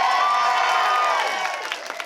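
Live audience at a late-night film festival pilot competition cheering, whooping and applauding loudly in a dense wash of sound that tapers off toward the end.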